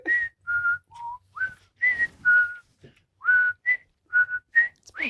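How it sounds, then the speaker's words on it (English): A person whistles a short melody alone, a string of clear, sustained tones broken by brief pauses, close and fairly loud, with no other sound beneath. "I could whistle."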